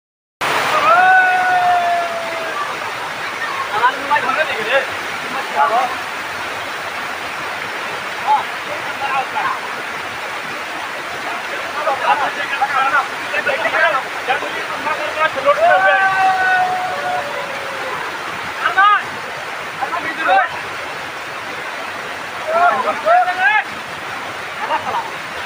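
A waterfall pours out from inside a mountain, giving a constant rushing roar of falling water under lively talking voices that come and go throughout.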